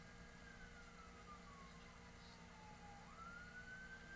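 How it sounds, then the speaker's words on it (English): A distant emergency vehicle siren wails outside, its rising and falling tone drifting slowly and growing a little louder as it approaches, faint beneath a steady indoor background hum. "I'm hearing a siren."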